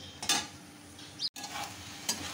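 A spoon stirs tarka dal with spices and whole green chilies in a hot pan. Scraping strokes come in short bursts over a soft, steady sizzle, close up and with no voices.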